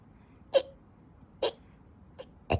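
Four short, sharp hiccups spaced about a second apart, each a quick breathy catch against a quiet background.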